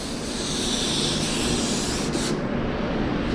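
Steady, close aerosol-like hiss of a very light finish coat being sprayed onto an old oak table, continuous for a few seconds and then cutting off, with no talking.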